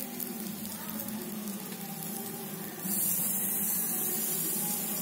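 Oil drizzled around an okra adai dosa sizzles on a hot pan, a steady close hiss that jumps louder partway through and then holds, with no talking.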